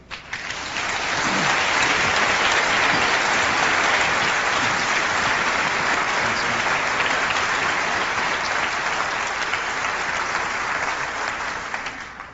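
An audience at the Macworld 1998 keynote claps in a large hall. The applause swells quickly, holds as a full, even wash for about ten seconds, then fades out.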